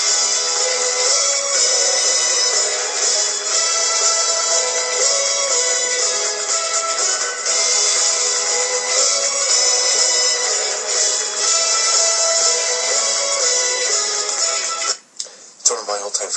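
The intro of an old love song plays continuously, thin and radio-like, then briefly cuts out near the end.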